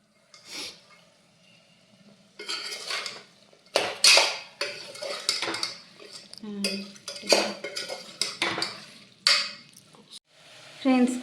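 Chicken going into cooked masala in a pan for biryani, followed by repeated metal spoon scrapes, clinks and stirring clatter against the pan, close and fairly loud, with brief moments of quiet between bursts.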